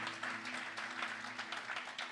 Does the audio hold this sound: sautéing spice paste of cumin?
no